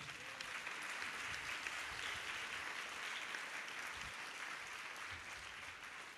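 Congregation clapping in a church during the Holy Cross feast in Muthaiyapuram, Tuticorin, a faint, distant, steady wash of applause with no talk over it.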